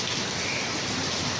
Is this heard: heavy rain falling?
yes